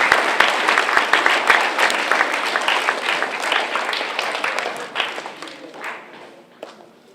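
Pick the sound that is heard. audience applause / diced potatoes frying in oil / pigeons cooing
audience applause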